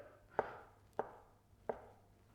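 A knife slicing a savoury topping for a Smokie sausage, three crisp separate cuts against a board, close and clear with quiet pauses between each stroke.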